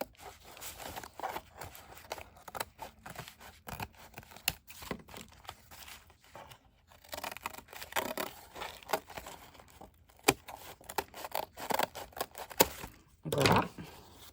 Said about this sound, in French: la première étape, c'est de couper